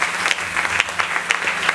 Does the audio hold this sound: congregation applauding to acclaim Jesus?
yes